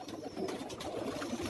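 Pigeons coo softly on a rooftop in Karachi, a low murmuring cooing that runs steadily through the clip under a faint background hiss, with no talking.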